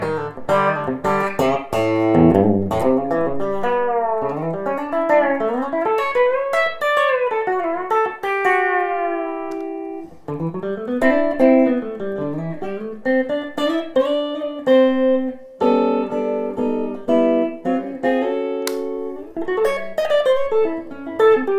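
Lucky Dog telecaster-style electric guitar on its hog leg neck pickup, clean and bright, playing fluid melodic lines with bends, slides and chord stabs, close and alone.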